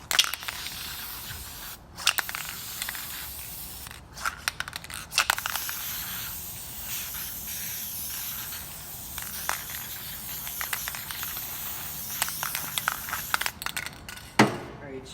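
Aerosol spray coating the inside of a part from a 2000 Suzuki RM125 dirt bike: repeated close, loud hissing bursts with short gaps, mixed with light handling and scraping noises.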